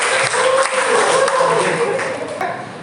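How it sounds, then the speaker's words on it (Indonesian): A classroom claps for the winning group, a short burst of applause mixed with students' voices and chatter, loud and close. "boleh tepuk tangan untuk kelompok 2."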